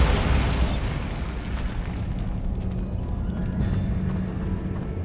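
A Bombarda spell explodes in Hogwarts Legacy: a loud, close boom at the very start that fades into a lingering rumble.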